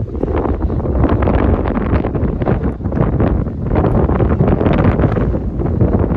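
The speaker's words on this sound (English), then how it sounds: "It's a beautiful windy day." Strong gusts of wind buffet the microphone in loud, rough bursts at Castillo de San Marcos in St. Augustine, Florida, a continuous roaring rush with no voices.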